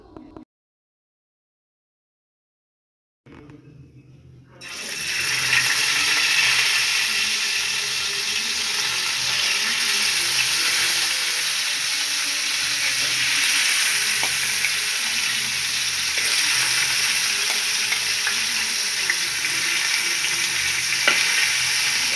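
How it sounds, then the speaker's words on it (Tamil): Fish marinated in turmeric and salt frying in hot oil, a loud continuous sizzle that starts abruptly after a few quiet seconds and crackles steadily throughout, with no talking. "மீன் இப்போ பொரிஞ்சு கொண்டு இருக்கு"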